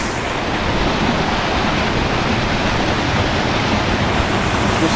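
A waterfall pours in a steady, loud, broadband roar that fills the scene without pause, rushing water dominating everything close by.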